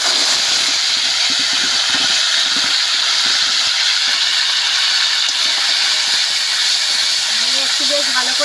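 Ground onion and tomato paste with black cumin sizzles in a pan for katla fish kalia while being stirred, a loud, constant hissing sizzle that holds steady from start to finish, with a faint voice near the end.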